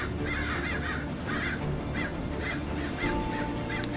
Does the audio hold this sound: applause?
no